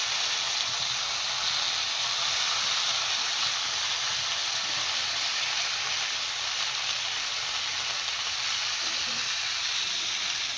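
Paratha cooking on a hot pan: a loud, continuous sizzle and hiss, steady and close with no talk over it.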